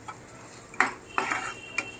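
A spoon stirring fish curry with fresh coriander leaves in a metal pot, making a few distinct, fairly quiet clinks and scrapes spaced apart against a near-silent background.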